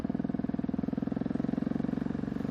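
A KTM 690 SMC R single-cylinder motorcycle on a wet road, its engine giving a steady, rapid pulsing thump at even speed, close and continuous with no talking.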